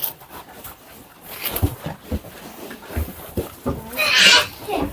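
Pigs crunching and chewing on zucchini in a farm pen, a run of close, irregular wet crunches with occasional snorts and grunts.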